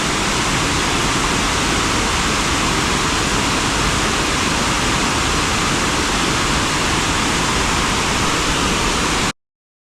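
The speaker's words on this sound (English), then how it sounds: "Whether you can hear me over the rush of the water or not," Rushing water of a waterfall beside a hiking trail, a steady, loud, unbroken roar of broadband noise with no variation, heard up close and alone until it cuts off abruptly near the end.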